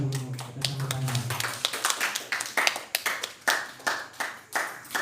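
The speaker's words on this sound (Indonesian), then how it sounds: "saya minta teman-teman beri tepuk tangan pada Pak Sekretaris Desa Jerobodok atas sambutannya." Small village gathering of a youth organisation clapping for a village secretary's speech, sparse uneven hand claps from a few people, individual claps clearly separate and fairly close, after a brief voice at the start.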